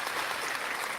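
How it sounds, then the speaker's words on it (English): A small group of people claps briefly, a dense, even patter of hands at moderate loudness with no speech over it. "We got claps now."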